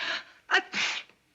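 A short gasping intake of breath is followed by a breathy, forceful sneeze nearby, moderately loud.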